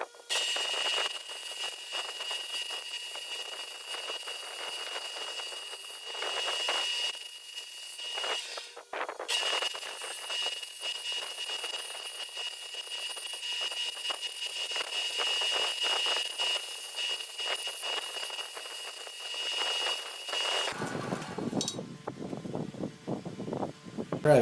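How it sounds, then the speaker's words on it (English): A flush trim router bit on a router table cuts a guitar control cover plate, a loud continuous high whine with grinding texture for about twenty seconds before dropping away. "this template is going to ride on the bearing of this router bit, this flush trim router bit"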